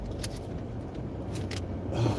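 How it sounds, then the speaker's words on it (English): A car approaches on the road outside a vehicle, its low rumble and tyre noise steady and building slightly toward the end, with faint interior clicks and no talking. "this car is coming, so I'm looking"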